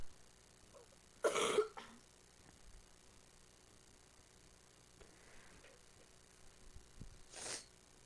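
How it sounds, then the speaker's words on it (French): A sharp, loud cough bursts out close by, followed later by a second, fainter cough against a quiet room background. "quand je vais tousser, je vais relever mon micro"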